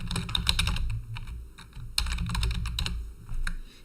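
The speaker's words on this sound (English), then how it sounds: "And then next we will type in our name." Close, quick typing on a computer keyboard, bursts of crisp key clicks with short pauses between them, no talking.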